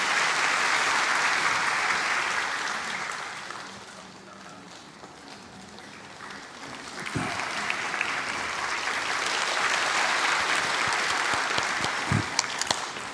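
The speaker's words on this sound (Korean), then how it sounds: "우리 박수로 이 아이를 축복합니다" A church congregation applauds during a Sunday service to bless a child, steady, dense clapping that fades, then swells again into a long, full round, heard from within the room.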